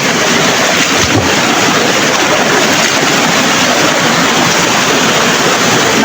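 Strong rushing water from a flooding stream roars close and steady, a dense continuous wash with wind buffeting the microphone and no voices.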